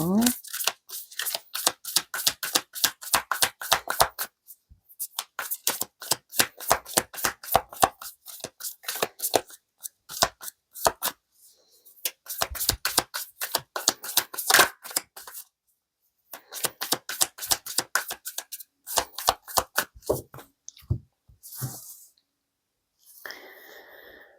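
Tarot cards are shuffled by hand, close and crisp. Rapid runs of clicking riffles come in several bursts of a few seconds each, separated by short pauses, and there is no talk.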